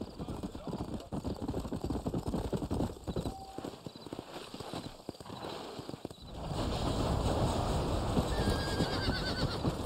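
Horse hooves clip-clop steadily while riding in the video game Red Dead Redemption, with occasional neighs and game ambience; the hoofbeats grow louder and denser in the last few seconds, with some voices in the mix.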